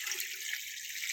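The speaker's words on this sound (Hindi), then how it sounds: "पानी शामिल कर देंगे" Water runs steadily into a cooking pot as salt and chopped onion wait inside, a soft continuous pouring hiss at moderate volume with no talk.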